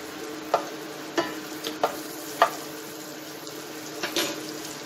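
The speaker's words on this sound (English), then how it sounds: "So, I'm just going to start with sauteing." Garlic sautéing in butter and oil gives a soft, steady sizzle, with a few sharp clicks of a utensil stirring the pan spaced across a quiet stretch.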